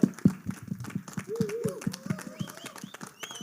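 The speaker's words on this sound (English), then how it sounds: "big, big round of applause." An event audience applauds and cheers for actor Naga Chaitanya at the Thandel Hindi trailer launch in Mumbai, steady clapping from a crowd with a host's voice over it.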